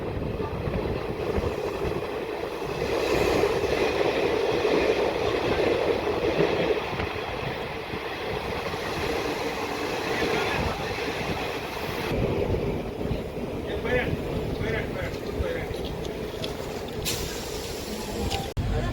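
A DEMU local train comes to a halt short of the platform at Dichpalli station, with a steady, close carriage rumble and hum running throughout, and faint hissing and brake sounds near the end.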